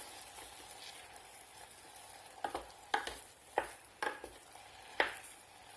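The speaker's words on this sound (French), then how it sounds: "Alors je rajoute maintenant la cannelle. Et je remue." A spoon stirs cinnamon into apples softening in a pan, giving about five distinct scraping strokes over a quiet, continuous sizzle, close and fairly soft.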